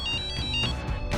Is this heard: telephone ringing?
yes